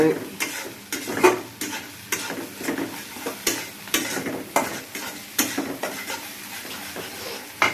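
A spoon scrapes and stirs green chilies sizzling in oil in a pan, with irregular clattering strokes over a steady frying hiss, close and clear.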